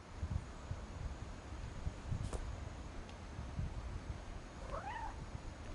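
A cat meows in a video game, a short rising-falling call near the end heard over a steady low ambient hiss with faint rustling.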